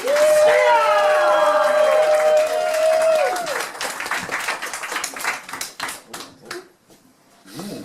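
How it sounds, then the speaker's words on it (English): A stand-up comedy audience claps, stamps feet and cheers loudly after a rising musical swoop, the applause continuing in dense bursts before thinning out. "Let's hear those feet are stamping. Let's hear those hands are clapping."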